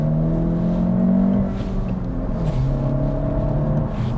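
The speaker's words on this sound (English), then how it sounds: "And the car sounds good, bro." A used car bought from a vending-machine dealer runs with a steady low engine hum and rumble, fairly close and constant with slight shifts in pitch, no voices.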